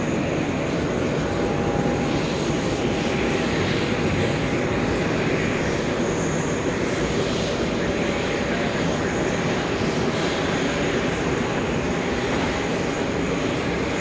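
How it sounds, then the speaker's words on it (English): A Virgin Atlantic airliner arriving at JFK roars steadily and loudly throughout, a continuous broadband jet engine rumble with a faint high whine, no pauses. "Back-to-back Virgin Atlantic arrivals. We just saw the one from Manchester."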